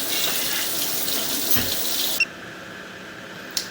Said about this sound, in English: We're going to turn the water off, and then we'll let the water drain down a little bit